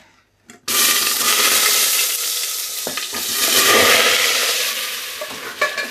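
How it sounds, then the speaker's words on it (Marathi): Potato pieces dropped into hot oil for pav bhaji set off a loud, close, continuous sizzle that begins abruptly after a short quiet moment and keeps hissing steadily, with small crackles, to the end. "गरम झालेला आहे तेल घातलेलं आहे"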